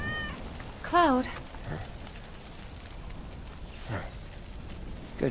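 A cat in Final Fantasy 7 Remake gives a single clear, close meow early on, followed by softer faint mews over quiet game ambience.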